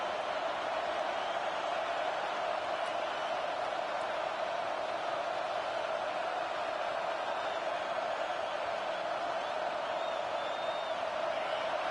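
A college football stadium crowd in a video game roars in a dense, continuous wash of noise, steady and loud from start to end, with no distinct voices standing out.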